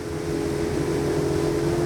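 A Saxdor 270 GTO motorboat with an outboard engine running up to speed at sea, a loud, steady close engine drone with a strong tonal hum under rushing wind and water noise.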